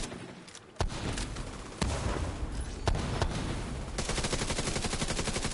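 Gunfire in the video game The Division 2, sharp loud shots at irregular intervals followed by a sustained rapid burst of automatic fire toward the end.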